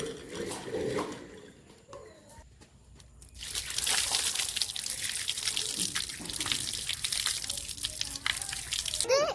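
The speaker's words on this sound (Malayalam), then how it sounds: "കിണറിന് വെള്ളം മുക്കാണ് ഈ മാങ്ങ കഴുകാന്" Water drawn from a well pours out to wash freshly picked mangoes; after a few quieter seconds of handling sounds, a loud, continuous rush of splashing water takes over.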